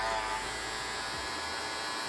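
A cordless barber hair clipper runs with a steady, loud electric buzz that stays constant and close throughout, with no talking.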